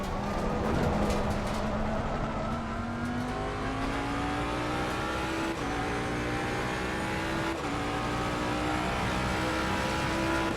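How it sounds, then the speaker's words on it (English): A GT race car in Assetto Corsa Competizione pulls out of the pit lane, its engine droning loud and close, the pitch climbing steadily and dropping at two gear shifts, with a faint tire squeal. "The car is exiting the pits, watch out."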